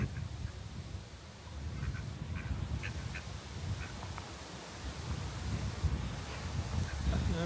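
A handful of faint, scattered duck quacks drift across a lake, partly buried under a constant wash of wind and outdoor background noise.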